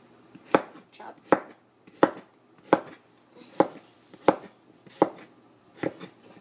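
A knife chops food for chicken soup on a cutting board in steady, evenly spaced thuds, about ten crisp strikes close by at a relaxed pace, without any speech.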